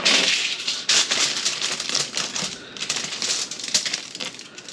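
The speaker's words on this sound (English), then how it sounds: "put down our tin foil" Tin foil laid down and crinkled on a workbench during a bourbon barrel oak ring build, bright crackling and rustling bursts repeating close up with no talk.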